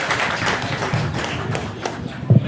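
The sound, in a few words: audience clapping hands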